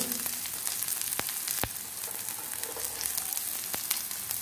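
Onion, ginger, curry leaves and red chilli frying in a pan for masala dosa filling, a soft continuous sizzle with a few sharp clicks of stirring, close but fairly quiet, no voices.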